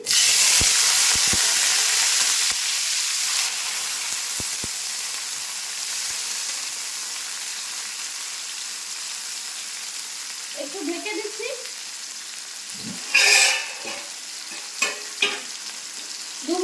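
Chopped ridge gourd sizzles and fries in a pan with cumin, a steady close hiss with occasional clinks of a stirring utensil and a few louder scrapes near the end, while a voice speaks faintly at times.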